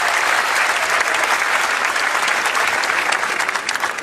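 Enthusiastic audience applause at a live comedy show, dense continuous clapping for about four seconds, loud and close, with no voices over it.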